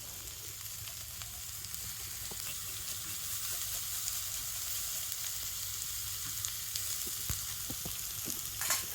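Grated ginger fries in hot oil in a pan, a quiet, steady sizzle and crackle with light stirring sounds and a few sharper pops near the end.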